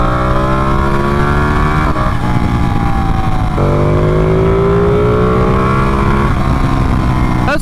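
A Ducati Panigale motorcycle's engine revs hard on a backroad ride, loud and close, its pitch climbing through gears with brief drops at each shift over steady wind rush.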